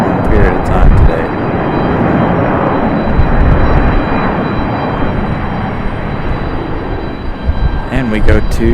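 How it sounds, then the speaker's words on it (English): Airbus A319 airliner landing on the runway at Raleigh-Durham International Airport, a loud sustained roar and rumble of jet engines heard from a spotting position, steady throughout, with a person talking over it at the start and end. "Nice touchdown for the A319."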